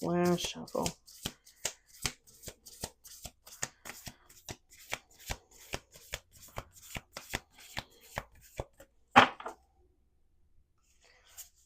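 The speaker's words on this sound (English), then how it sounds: "Last shuffle." Cards riffle-shuffled in a quick burst, followed by a long series of crisp, evenly spaced snaps and taps as the deck is bridged and squared, ending in quiet.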